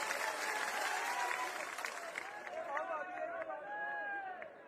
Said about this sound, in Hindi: ताली बजा के अभिनंदन करें।